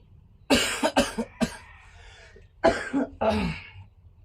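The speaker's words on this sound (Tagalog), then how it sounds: "Hirap huminga pag inuubo tayo" A close, clear series of coughs: a burst of three or four hacks, a pause, then two more harsh coughs.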